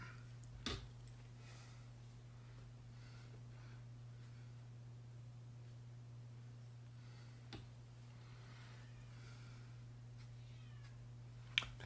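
A cat gives faint, distant meows over a steady low electrical hum, with a few soft clicks scattered through an otherwise quiet room.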